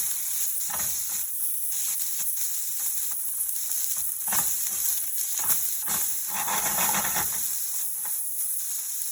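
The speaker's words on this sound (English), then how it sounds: "We're going to add our onions to the pan." Onions hiss and sizzle steadily in a hot oiled pan, with intermittent stirring and scraping as they are spread out, loud and close throughout.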